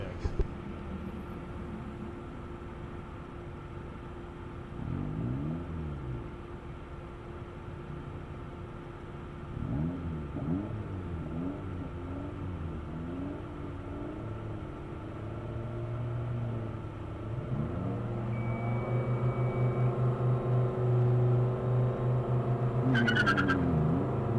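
A Mazda Speed Miata on an SCCA ProSolo autocross course steadily drones and revs with rising and falling engine pitch, shifting through the run, while a commentator talks over it throughout.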